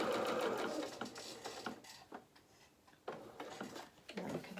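A home sewing machine runs in bursts along a seam of small festive bloomers, its rapid mechanical whir stopping for pauses at the pivots and starting again, close and fairly loud.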